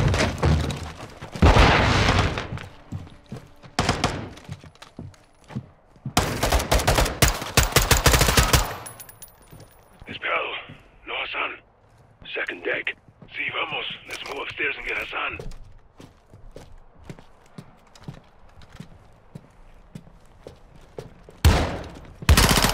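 Heavy bursts of automatic gunfire in Call of Duty: Modern Warfare 2 during the Hunting Hassan mission, loud volleys split by pauses, with people talking between the shots.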